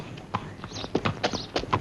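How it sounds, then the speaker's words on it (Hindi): Horse hooves clip-clop on a farm in rhythmic, moderately close strikes, about five or six distinct hits spread over under two seconds with faint background noise and no talking. "जल्दी घोड़ा पकड़ लो।"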